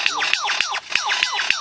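Superb lyrebird in a forest imitating laser-like sounds: a rapid, repeating series of sharp descending zaps and chirps, about four bursts a second, loud and close with no talking.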